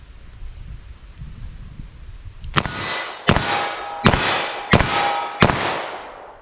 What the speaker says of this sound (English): I'm just going to fire these off and try to hit the target as fast as I think I can hit it.